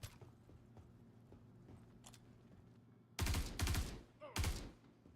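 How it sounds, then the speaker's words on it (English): Karna rifle fire crackles in Star Citizen: after a quiet stretch of low ambient hum, three loud, close bursts of automatic shots ring out in quick succession near the end. "Someone's shooting a Karna over there."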